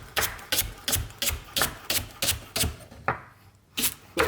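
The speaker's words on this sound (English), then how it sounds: "We've got our crayfish tails. I don't want small pieces, so I'm literally just going to hack these into like chunks." Crayfish tails hacked into chunks with a knife on a board, a steady run of about ten sharp, close chopping thuds with a brief pause near the end.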